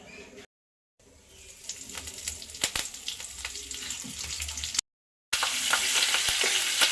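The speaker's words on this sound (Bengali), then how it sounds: "আবারও সাদা তেল দিয়ে দিচ্ছি দুটো শুকনো লঙ্কা ফোড়নে দিয়ে দিচ্ছি কালো সর্ষে আর দিয়ে দেবো কারি পাতা" Dried red chillies, black mustard seeds and curry leaves fry in white oil in a kadai, a close, steady sizzle with sharp crackles and pops, cut by two brief silences and growing louder at the end.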